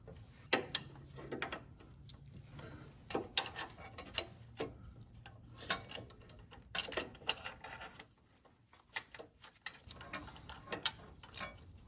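Ratcheting and clicking from a wrench tightening a bolt on a 1988 Nissan Pathfinder during a rack and pinion replacement, irregular bursts of close mechanical clicks and clanks with short pauses, no talk.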